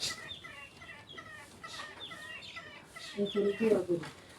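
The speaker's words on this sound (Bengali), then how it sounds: "অনেকগুলা মুরগি দেখুন আমাদের বাসায় এখন দেখুন মিছিল হয়ে যাবে।" Hens cluck and chatter in the background while people talk in a village home, with a louder burst of clucking near the end.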